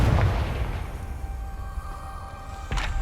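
A Confringo fire spell in Hogwarts Legacy goes off with a deep, booming blast that rumbles and fades over a few seconds, followed by a short second burst near the end.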